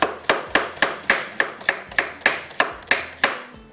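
Potatoes thinly sliced with a knife on a board, about a dozen crisp, evenly spaced chops in a steady quick rhythm, close and clear with no talking.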